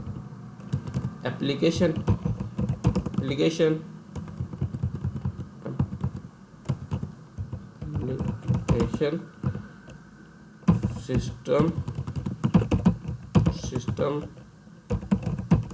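Typing on a computer keyboard, heard as bursts of rapid, close key clicks separated by short pauses, while someone talks over them.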